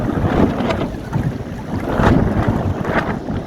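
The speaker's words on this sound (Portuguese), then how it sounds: "o vento está aumentando. Tem umas rajadas mais fortes." Strong gusting wind roars over the microphone aboard a monotype sailboat at sea in building swell, the blustery rush swelling and easing in repeated gusts with no talk.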